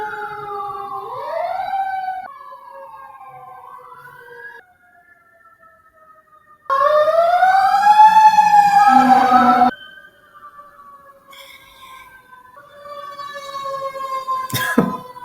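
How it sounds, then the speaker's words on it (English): Wailing emergency vehicle sirens rise and fall, switching patterns repeatedly, with a loud close burst in the middle and a distant one fading in and out. "Goddamn sirens."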